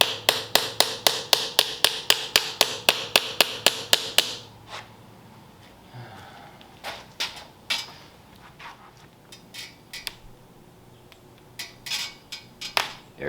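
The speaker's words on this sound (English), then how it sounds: "We need a bigger hammer." Metal hammering on a 1932 Ford roadster: a rapid run of about twenty sharp, ringing blows, then slower, irregular knocks and taps spaced out over the rest of the time.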